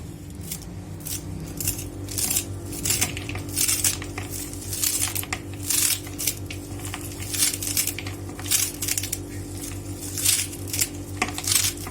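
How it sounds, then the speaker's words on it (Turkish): A knife chops parsley on a cutting board, a steady series of quick, close taps and clicks with faint metallic clinks, heard alone without talk. "İçine şimdi maydanozlarımı doğruyorum."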